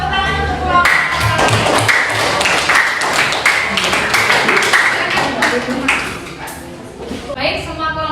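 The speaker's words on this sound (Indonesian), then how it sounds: "Oke, tepuk tangan untuk kelompok." A class of students claps for a group in a classroom, a dense burst of hand claps close by lasting several seconds before thinning out at the end.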